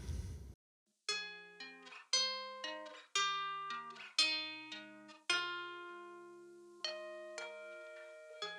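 Guitar notes and chords ring out one after another through a reverb impulse response of an empty living room, each plucked attack decaying in a roomy tail, about eight separate strikes at a moderate, even pace.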